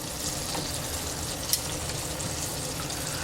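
Green tomatoes frying in a pan give a steady, soft crackling sizzle that holds evenly throughout, with one small sharp tick partway through and no talking.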